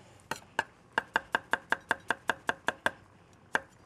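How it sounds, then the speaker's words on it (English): A knife rough-chops garlic on a cutting board in a kitchen, about a dozen crisp, close, evenly spaced thunks in a quick run, then one last chop after a short pause. "A little bit of garlic, rough chopped."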